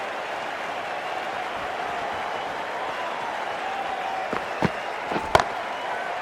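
Cricket stadium crowd during a Test match between South Africa and Australia, a broad distant roar of applause and cheering, steady throughout, with a few sharp claps or knocks near the end.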